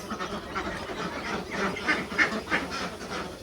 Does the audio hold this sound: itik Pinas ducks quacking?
yes